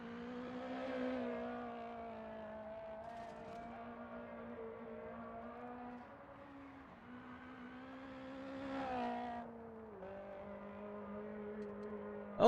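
A rally car engine in a video game whines steadily at high revs, rising and dipping as gears shift, with no talking.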